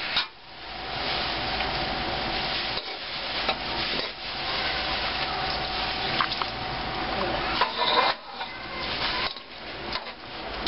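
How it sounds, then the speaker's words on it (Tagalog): Shrimp and squid broth being stirred into sautéing chicharon and beef for pancit palabok, giving a continuous wet bubbling hiss with rubbing, scraping spoon strokes and a few brief dips, no talk. "Ihahalo ko na dito sa ginigisa kong chicharon at saka tinapa ng beef"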